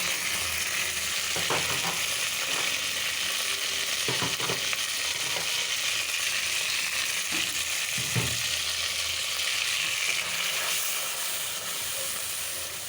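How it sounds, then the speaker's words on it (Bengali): Ground spices sauté in oil in a pan for fish-head muri ghonto: chili, turmeric, coriander, ginger-garlic, bay leaf and garam masala. A steady frying hiss runs throughout, broken by occasional faint utensil clinks. "একসঙ্গে মশলাটা একটু কষানো হোক"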